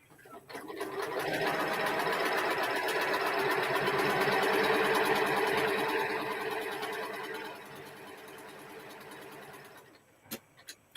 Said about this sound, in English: I know she was sewing while we were talking